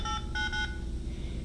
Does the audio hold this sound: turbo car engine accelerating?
no